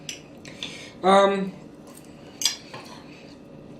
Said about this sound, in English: Get a nice fresh tomato. Cut it into little slices.